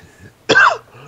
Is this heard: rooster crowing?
no